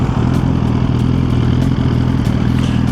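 A 1000cc motorcycle engine running steadily while ridden, a loud, continuous low rumble with faint clatter and brief shifts in tone, close and without talk.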